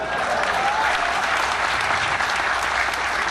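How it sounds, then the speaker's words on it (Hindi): Sustained applause from a mushaira audience in Islamabad, dense steady clapping that holds at an even level for the full stretch without talk over it. "PTCL के वास्ते ताली बजाइए"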